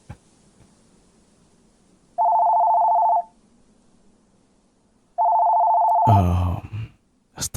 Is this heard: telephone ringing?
yes